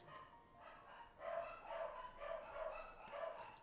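A dog in a game barks in a string of short, evenly spaced yaps, faint and somewhat distant, with no talk over it.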